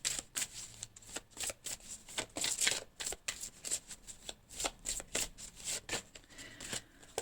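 Tarot message cards shuffled by hand close up, making repeated crisp riffling bursts in an uneven rhythm with short pauses between them.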